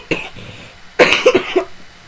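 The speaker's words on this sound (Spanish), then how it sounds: "mi tos es súper horrible" A sick woman coughs close to the mic, one short cough followed by a burst of several harsh coughs.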